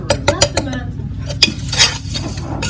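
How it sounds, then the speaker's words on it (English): A butter and flour roux cooking in a pan, with several sharp clinks and scrapes of a utensil against the metal over a soft sizzle, close and loud. "we've put 4 tablespoons of butter into a pan to melt. And we're also adding 2 tablespoons of flour."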